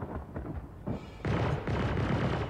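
Spaceship weapons fire in Star Citizen, bursts of shots and booming impacts in uneven clusters, growing louder and denser toward the end.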